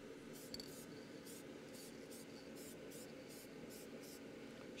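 Short bursts of high-pressure stone tone spray paint applied to sandcarved wood, about nine brief hissing sprays in a quick, regular rhythm over a low, steady background hum.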